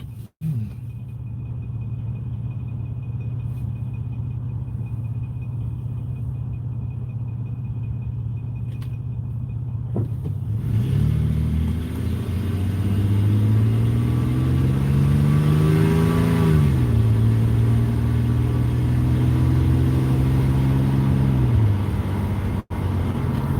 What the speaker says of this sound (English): traffic is pretty heavy right now